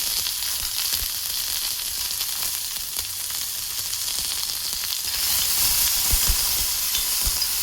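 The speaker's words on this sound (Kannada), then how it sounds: "ಇವಾಗ ಇದಕ್ಕೆ ಈರುಳ್ಳಿ ಹಾಕ್ಬಿಡೋಣ, ಮತ್ತು ಬೆಳ್ಳುಳ್ಳಿ ಹಾಕೋಣ. ಇವೆರಡು ಕೆಂಪಾಗೋವರೆಗೂ ಹುರಿಬೇಕು." Chopped onion and garlic sizzle steadily in hot oil in a pan, a dense continuous frying hiss with faint stirring scrapes that grows a little louder toward the end, no voices.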